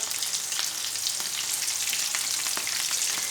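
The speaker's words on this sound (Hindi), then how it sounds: "अब एक साइड से फ्राई होने देते हैं" Aloo tikki potato patties frying in oil in a pan, a steady bright sizzle with scattered crackling pops, continuous and close, with no voices.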